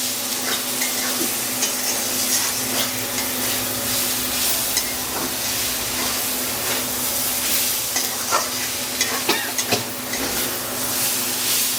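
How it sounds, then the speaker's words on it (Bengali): Spice paste with pointed gourd and freshly caught giant freshwater prawns frying in a pan over low heat, a steady dense sizzle under repeated scraping stir strokes and occasional spoon clinks against the pan. "আস্তে আস্তে করে জাল হলে মশলাটা ভালো ভাজা হবে।"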